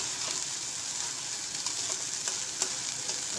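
Ingredients for katachi aamti sauté in a pan with a steady, close, hissing sizzle and occasional light pops and stirring scrapes, with no talking.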